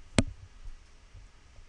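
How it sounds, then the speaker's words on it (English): One sharp computer mouse click on a save button, close and crisp, followed by quiet room hiss. "click save"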